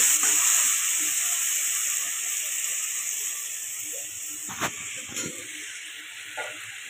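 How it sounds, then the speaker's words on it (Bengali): Spice paste with turmeric, salt and a little water being sautéed for a dried fish curry, a loud steady sizzle and hiss with a few stirring scrapes, close by and without talking. "এই যে শুটকি মাছের মশলা কিন্তু কষানো চলছে"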